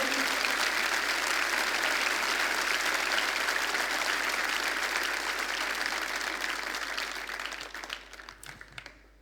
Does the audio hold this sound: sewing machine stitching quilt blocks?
no